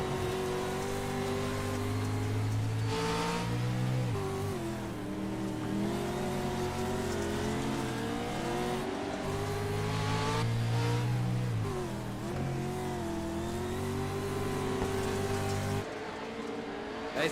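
Onboard race car engine in a racing video game, droning loudly and continuously while shifting pitch as it revs up, shifts and eases off through corners over a lap.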